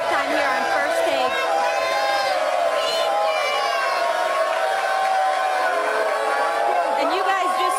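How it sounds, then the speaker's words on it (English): A large crowd of First Take fans at a live sports talk show cheers and whoops loudly and continuously, with overlapping shouts and chatter filling the space. "This crowd is so hype."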